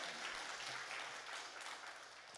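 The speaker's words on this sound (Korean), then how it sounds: "우리 하나님께 영광의 박수" A church congregation claps together during a Korean worship service, a dense, steady burst of applause that fades slightly over a couple of seconds.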